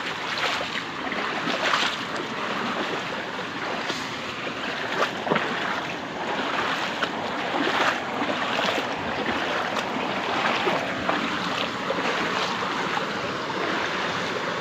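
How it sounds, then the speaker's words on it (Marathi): A small waterfall pours into a flowing stream on a rainy day, making a continuous broadband rush of water. The sound is loud and steady throughout, with no talking. "मंडळी इथे छोटासा एक धबधबा आहे. कसं पाणी वाहतंय."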